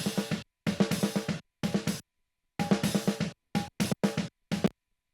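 Real snare drum hits with a first EQ pass that trims unneeded low and high end, played as a loud, close groove of sharp strikes in several bursts separated by brief silences.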